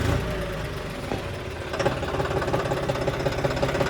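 A Swaraj 735 diesel tractor engine idles with a steady, rapid knocking rhythm, close and fairly loud, with no talking.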